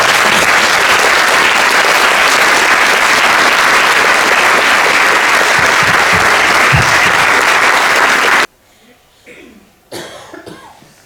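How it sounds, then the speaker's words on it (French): Loud, dense applause from an evening theatre audience fills the room for about eight seconds, then cuts off abruptly, leaving a quiet space with a few faint coughs and small sounds. "j'aimerais que vous les applaudissiez grandement pour les encourager ce soir"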